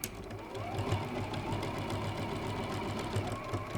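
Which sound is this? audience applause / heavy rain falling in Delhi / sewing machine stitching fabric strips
sewing machine stitching fabric strips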